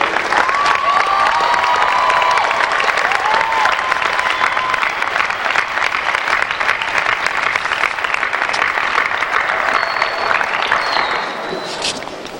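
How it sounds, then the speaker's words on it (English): A large conference audience at a state FFA leadership session gives a long, loud round of applause with some cheering and whoops mixed in, sustained and fading slightly at the end. "I think we owe last year's team one more final round of applause for the awesome job they did putting everything together this year"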